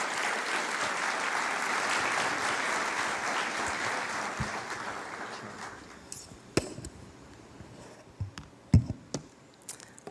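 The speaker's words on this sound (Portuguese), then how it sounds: "Vamos recebê-lo com uma forte salva de palmas" A church congregation gives a strong round of applause, loud sustained clapping for about six seconds that then thins out to a few scattered claps and knocks.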